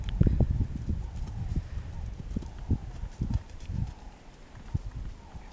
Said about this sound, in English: Nice little trot there.